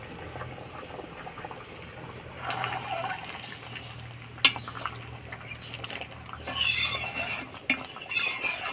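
Chickpea dal with jackfruit seeds and kochu simmering in a pot as ghee and sugar are stirred in, with soft bubbling, a sharp metal clink from the spoon and brief scraping strokes near the end.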